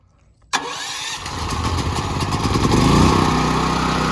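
Westinghouse WGen9500 DF dual-fuel generator engine cranking and catching after a quiet start, then settling into a loud, steady, slowly building run with no talking.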